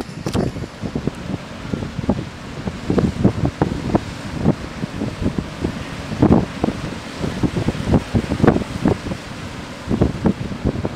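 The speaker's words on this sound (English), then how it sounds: "it's pretty rough out there for these guys today with this wind and the tide" Strong wind buffets the microphone on the upper Chesapeake Bay during a bass fishing tournament, with rough water slapping and thumping against a boat in irregular bursts, close and loud.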